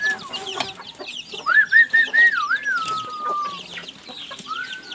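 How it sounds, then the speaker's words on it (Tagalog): Chickens and chicks cluck and peep on a small farm, a run of high chirps and squawks close by with scattered clucks underneath. "Yung mga sisiw natin, mga manok na iba"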